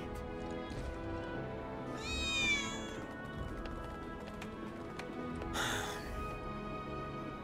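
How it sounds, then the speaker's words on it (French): A cat meows once in Final Fantasy 7, a short, rising and falling cry over a steady, faint game background, followed later by a brief soft rustle. "C'était pas un miaulement de chat à l'instant."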